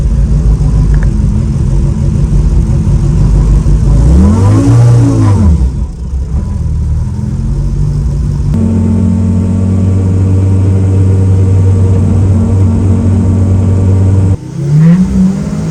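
A Kimera Evo37 rally car engine is loud and close, rising in a swooping rev, then settling into a steady mid-pitched drone while driving, with another quick rev near the end.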